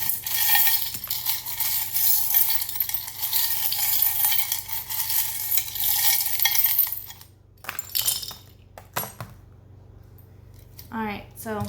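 Tarot cards are shuffled in a long, dense, crisp riffling rustle that stops abruptly, followed by a few scattered card slaps and a short burst of voice.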